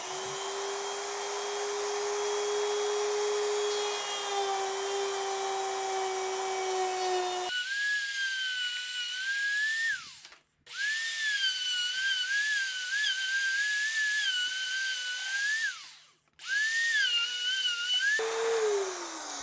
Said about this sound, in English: now we are going to sand that out with the sanding tool on this Dremel